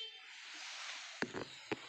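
Horn of a Deutz Fahr Agromaxx 50 tractor gives a few brief toots, with two short blasts close together and one more shortly after, over a steady faint hiss.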